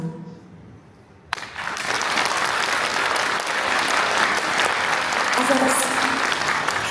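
Sudden loud, sustained applause from a concert audience bursts in after a brief quiet moment and continues evenly, dense and close.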